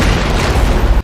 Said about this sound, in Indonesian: setelah berhasil meledakkan ruang kontrol